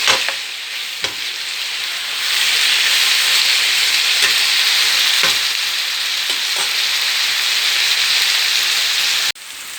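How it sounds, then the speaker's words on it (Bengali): Chopped onion and pointed gourd fry in a pan with a loud, steady hiss of hot oil, broken now and then by soft clicks of stirring, heard close and continuous. "দিয়ে আবার একটু ভাজা ভাজা করে নেব।"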